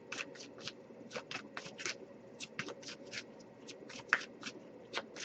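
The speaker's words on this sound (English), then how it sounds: "I'll give it a few more shuffles" Tarot cards are shuffled by hand in quick, crisp riffling bursts, a dozen or more short papery flurries in an irregular rhythm, close and fairly quiet with no talk.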